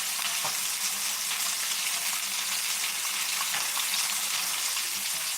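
Green tomato slices frying in a pan give off a steady, loud, dense sizzle with scattered sharp pops and crackles, continuous with no talking.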